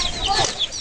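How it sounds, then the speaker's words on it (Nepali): Young chicks let out a brief, high, close chirping cluck in one short burst. "चल्लाहरू निक्लेछ"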